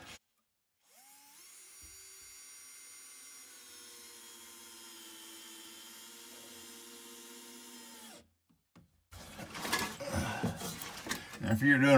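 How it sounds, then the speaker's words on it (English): A power drill whirs steadily for several seconds as screws are driven up through the bottom of a wooden stair landing board, then stops, followed by clattering handling noises. "I'm gonna put a couple of screws up through the bottom of this board."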